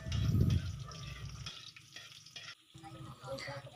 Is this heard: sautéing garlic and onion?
yes